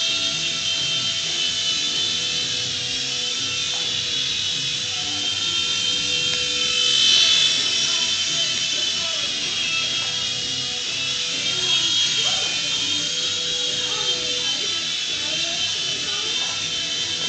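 A $20 RC helicopter carrying a nut on it hovers close by, its steady high-pitched rotor whine running unbroken throughout with slight swells, over faint rubbing and handling noises.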